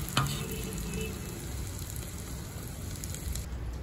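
Ginger and garlic fry in a kadhai for kadhai paneer, a dense, continuous sizzle like light rain, close and even, with a sharp knock at the start and no talk.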